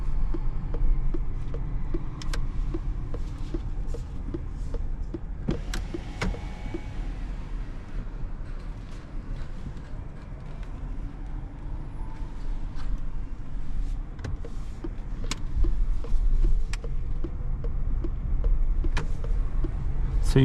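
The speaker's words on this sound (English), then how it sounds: "So you can see the car can drive with just electric power." Opel Grandland 2025 Hybrid 145 rolling on electric power through a large parking garage at night, a low hushed cabin hum with faint tire and suspension noise and occasional light knocks, no engine sound.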